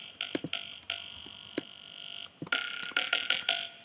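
Thick, buzzing synthesized neurofunk reese bass with insert effects, playing short stabs and held notes, with a brief gap before louder, brighter hits return; no voices.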